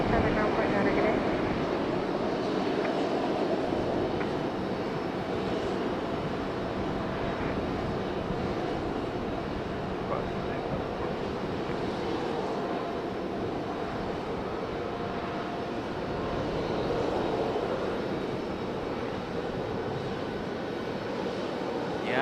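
A fixed-wing airplane landing on runway 23 right at Raleigh Durham International Airport, a steady distant engine roar that holds evenly throughout with no talk over it.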